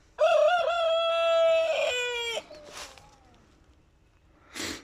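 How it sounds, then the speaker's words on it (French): A rooster crows once, loud and near, a long sustained call that breaks off abruptly, followed by quieter clucking and a brief rustle at the end. "Bon, là, je pense que on peut assurer que c'est un coq."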